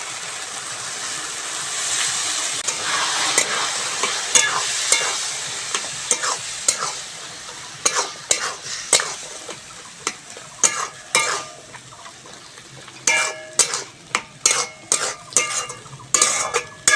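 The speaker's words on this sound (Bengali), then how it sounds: "মশলাটা ভালো করে কষে নিয়েছি" Turmeric, chilli, cumin and chickpea masala frying and being stirred in a pan, a steady sizzle joined by sharp, rhythmic scrapes and knocks of the spoon against the pan that grow more frequent later on.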